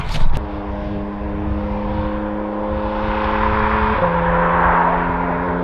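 A Porsche GT4 RS on a racing circuit during an easy warm-up lap: a steady, droning engine note holds nearly constant, then shifts up in pitch around the four-second mark as it carries on, loud and close with no talk.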